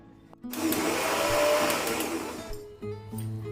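A mixer grinder roars close and steady, finely grinding tomatoes and chillies with a little water, then winds down and cuts off with some clatter of the jar afterward.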